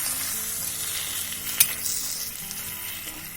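Steady, dense sizzling of dough frying in hot syrup, close up, with a brief sharp crackle partway through and no voices.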